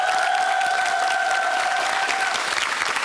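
A studio audience on a Korean TV quiz show claps throughout, a loud and dense patter of many hands, with a steady high tone running under it.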